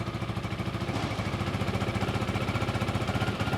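A single-cylinder ST250 motorcycle idles with its idle speed raised, a steady fast putter running close and alone with no talk.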